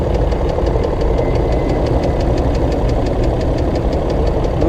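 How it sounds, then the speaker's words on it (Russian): An idling BMW X5 E53 engine with a steady, rapid metallic knock ticking over a loud, constant mechanical rumble, close up and with no voices. "и сразу стук появился вот этот"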